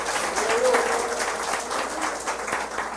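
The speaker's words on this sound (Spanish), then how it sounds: "De un aplauso al Señor." Church congregation applauding at the pastor's call: a dense, continuous clapping from many hands throughout, with no single voice standing out.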